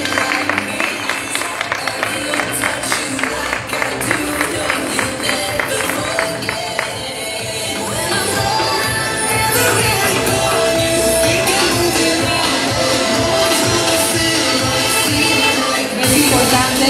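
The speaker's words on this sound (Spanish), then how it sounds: "Un fuerte aplauso, por favor." An audience applauds a contestant at the 2022 Fiestas Patrias queen pageant in Colotlán, Jalisco: loud, dense, sustained clapping with scattered shouts, filling the whole stretch without letting up.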